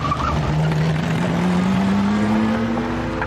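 A Lamborghini Miura's engine drones loudly and continuously on the move, its pitch climbing slowly as the car accelerates, with road and wind noise beneath.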